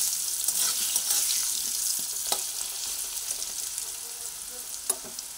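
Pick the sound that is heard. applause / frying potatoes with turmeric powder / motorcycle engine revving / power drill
frying potatoes with turmeric powder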